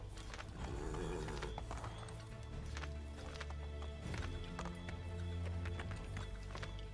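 A horse gallops in Assassin's Creed III, with fast clip-clop hoofbeats and an occasional whinny, steady and fairly close under game sounds.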